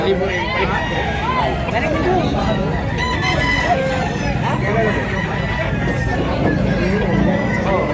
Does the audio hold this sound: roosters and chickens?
yes